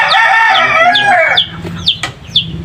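Three-month-old BPR heritage chickens in a backyard crow with drawn-out calls, then cluck in short sharp bursts. The birds are loud and close, and no one speaks.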